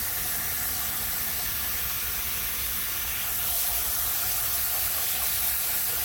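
Water sprayed from a shower head into a small mini aquascape tank, a steady close hiss of spraying water running throughout at even loudness, with no talk.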